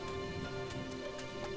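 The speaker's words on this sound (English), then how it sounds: "The rain didn't last long, but it rained hard enough to get the little calf wet." Rain falling hard in a Mediterranean forest, a steady, dense patter of drops on leaves and ground that stays close and even throughout, with no voices.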